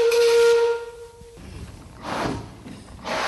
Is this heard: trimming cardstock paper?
no